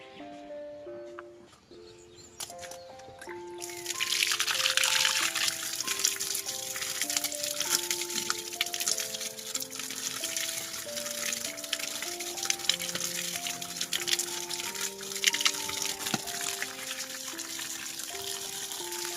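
Dried fish being rinsed with water in a village kitchen before it goes into mustard-flower fritters: a steady splashing gush of running water that starts a few seconds in and continues throughout, over background music.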